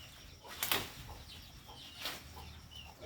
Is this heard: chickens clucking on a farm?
yes